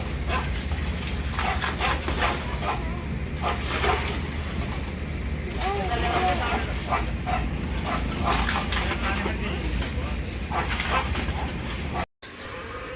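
Several dogs barking and whimpering in front of a house on a sunny day, the yelps and whines repeating irregularly over steady background noise, with a person speaking nearby.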